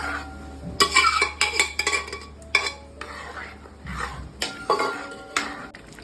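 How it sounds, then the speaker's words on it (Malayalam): A spoon stirs a mixture in ghee in a metal pan, making repeated close scraping clinks in an uneven rhythm over a faint low hum. "എന്നിട്ട് ഇതിലിട്ടൊന്ന് നമുക്ക് ഇതിലൊന്ന് ഇളക്കി സെറ്റാക്കി കൊടുക്കാം."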